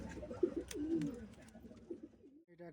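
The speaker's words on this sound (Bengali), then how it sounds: "এটা একটা লাল শিরা পায়রা," A red-vein pigeon gives a few low, close coos in short bursts with brief pauses between them, faint against a quiet background.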